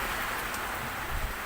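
Rain falling on a sailing boat at sea in light wind, a dense, steady hiss of drops close by with no voices.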